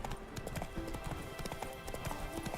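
Hooves of Roach, a horse in The Witcher 3: Wild Hunt, clip-clopping in a steady walking rhythm, close and clear over soft game ambience.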